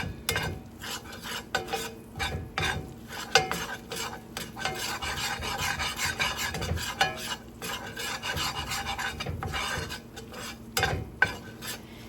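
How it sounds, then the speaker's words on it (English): Flour cooking in a pan for cream gravy, stirred continuously with a utensil scraping and rasping against the pan bottom in quick rhythmic strokes over a soft sizzle, close and alone. "we want to cook that flour just to get the raw taste out of it"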